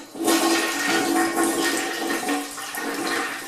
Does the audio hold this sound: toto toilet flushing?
yes